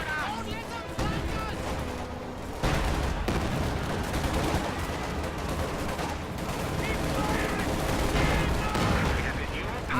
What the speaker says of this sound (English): Anti-infantry strafe will definitely shut down this shock troop blobbing.